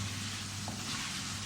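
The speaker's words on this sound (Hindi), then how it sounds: "अब इसको भी हम 10 मिनट के लिए फ्राई करेंगे" Chicken karahi masala fries in a pan with a dense, steady sizzle that stays loud and even throughout.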